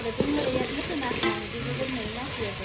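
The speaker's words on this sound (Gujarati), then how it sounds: "હવે આપણે મચ્છી નાખી દેવાની છે આની અંદર" Bangda mackerel pieces dropped into sizzling onion-tomato masala in a pan, with loud frying hiss, spatula scrapes and a sharp splash of sizzle as the fish goes in.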